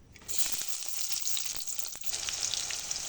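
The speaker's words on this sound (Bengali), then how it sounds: "এই তেলের মধ্যে দিয়ে দেবো পেঁয়াজ কুচি।" Chopped onion hits hot oil left over from frying potatoes, bursting into a sudden bright sizzle after a brief quiet start, then crackling steadily and close with faint stirring.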